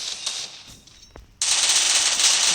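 Gunfire in the Free Fire battle royale video game: a few scattered shots, a brief lull, then a sudden loud, sustained burst of rapid automatic fire that continues to the end.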